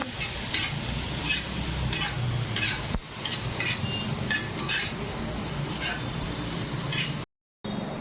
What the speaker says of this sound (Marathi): त्यानंतर त्याला परतून घेऊ.